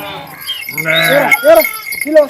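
Several sheep and lambs in a large flock in Jagtial, Telangana bleat close by, their wavering calls coming one after another in quick succession.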